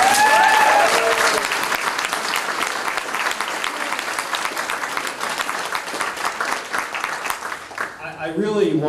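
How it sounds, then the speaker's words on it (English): An audience at a community talk bursts into loud, sustained applause that fills the space for several seconds before tapering, with a voice beginning to speak at the end. "So let's give Trio a round of applause."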